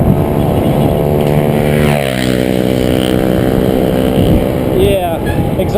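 A loud vehicle with no exhaust pipe, likely a small multi-cab on a Philippine country road, drones close by with a steady rasping engine note, and a pitch sweep as it passes.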